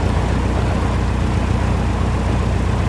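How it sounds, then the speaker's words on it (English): A steady engine drone as a V-tail Bonanza propeller airplane flies fast in the airport traffic pattern in cold weather, constant and fairly loud with no voices. "I think that's a Bonanza there, a V-tail Bonanza. He's in the pattern flying pretty fast."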